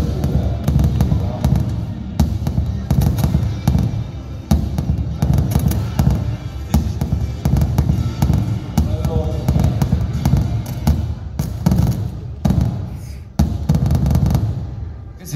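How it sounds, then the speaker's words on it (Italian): Fireworks bursts used as a sound effect in the intro of a rock song, a dense run of loud crackling pops and booms continuing throughout under the music. "Questi sono fuochi d'artificio in realtà che abbiamo messo."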